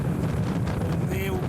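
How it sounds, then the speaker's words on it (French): Wind buffets a sailboat under full mainsail and genoa at sea off the island of Fatu Hiva, around 22 knots apparent, a loud continuous roar of gusts against the microphone with someone speaking French over it. "On est au bord de l'île, donc on a un peu plus de vent."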